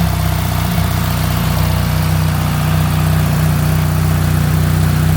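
A BMW R1300 GS Adventure Triple Black motorcycle engine runs at a steady idle with its exhaust valve closed, a close, even low rumble holding constant with no voices over it.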